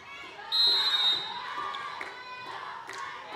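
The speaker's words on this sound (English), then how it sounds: "We saw some fans here, of course, cheering for their squads." Crowd of fans cheering at a Shakey's Super League volleyball match, a broad roar swelling at the start and then holding steady, with scattered shouts, ball bounces and commentary running over it.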